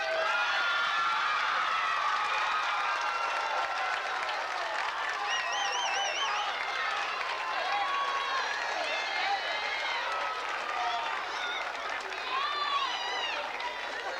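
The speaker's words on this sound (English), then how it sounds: "I'm going to ask the class of 1995 to please stand and applaud all those who helped get you this far" A 1995 high school graduating class standing to applaud in a stadium, producing steady sustained clapping and scattered cheers and whistles from a large crowd, continuous at even volume.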